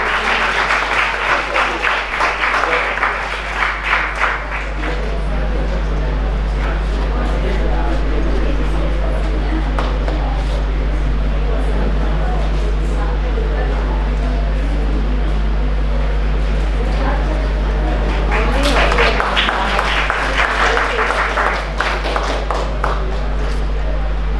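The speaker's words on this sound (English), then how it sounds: "Can we have a round of applause for him?" An audience at a road safety prize distribution ceremony claps loudly at the start, the clapping dies away under a steady low hum, and a second burst of applause comes near the end.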